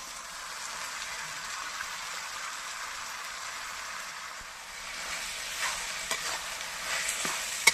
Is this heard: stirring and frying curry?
yes